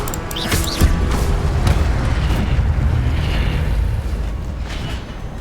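A fire spell blast in the Hogwarts Legacy video game: a loud, dense rumbling whoosh with a sharp burst near the start, sustained for several seconds before tapering slightly.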